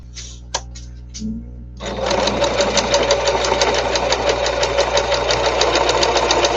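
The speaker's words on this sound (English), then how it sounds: "Just sewing along" A sewing machine stitching face masks starts after a few faint clicks and handling noises, then runs in a fast, steady mechanical chatter for several seconds, close and loud.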